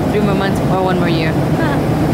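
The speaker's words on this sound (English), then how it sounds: "the plane was like a huge white noise" A steady, loud broadband roar of airplane cabin noise fills the clip, with a voice talking over it.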